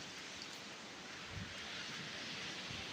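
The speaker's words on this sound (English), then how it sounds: "So here we are, at a very noisy Los Cristianos beach." Faint, steady surf at a noisy Los Cristianos beach washes in as a continuous broadband rush with no clear breaks between waves and no voices.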